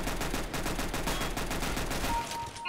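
Rapid, continuous Tec-9 automatic gunfire in Counter-Strike: Global Offensive, a dense unbroken burst of loud shots lasting nearly three seconds before cutting off abruptly.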